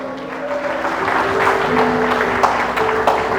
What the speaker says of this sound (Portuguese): Glorifica ele com as palmas